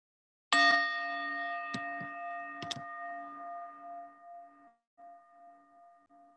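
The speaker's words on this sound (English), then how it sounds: "And we'll begin and end with the sound of the bell." A meditation bell is struck once and rings with a long, sustained tone that slowly fades, with a few faint knocks while it decays; no one speaks.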